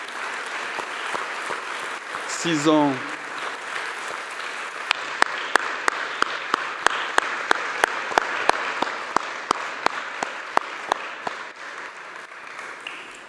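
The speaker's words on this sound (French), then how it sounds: "Je voudrais que vous l'applaudissiez tous fort." Audience applause at a symposium as a speaker is invited onto the stage, a steady wash of clapping that settles into slower, distinct individual claps, with a short voice near the start.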